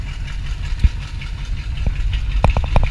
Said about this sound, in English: I'm gonna see how it sounds with no idle screw.